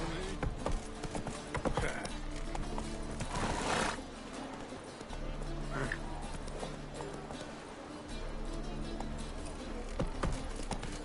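Horse hooves clip-clop in a steady trotting rhythm in Fortnite Creative, close and fairly loud, with a brief whinny and some voice and game noise mixed in.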